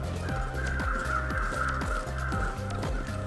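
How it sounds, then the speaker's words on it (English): Crows caw repeatedly in The Long Dark, a winter survival game, their harsh calls sounding loud and close over a steady rhythmic in-game background with no talking. "I must feed these crows like crazy."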